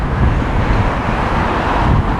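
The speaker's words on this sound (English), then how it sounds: "When wind gets up in these certain areas, oh boy does it get up. It is super windy." Loud, constant wind roars across the Blackpool promenade, a dense blustery rumble buffeting the microphone with distant traffic-like noise beneath.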